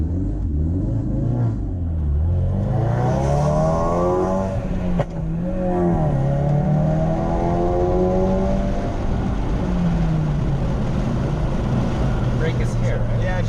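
Ford RS race car accelerating hard on a track, engine note climbing through rising harmonics with a brief shift dip, loud and close throughout while a voice talks over it.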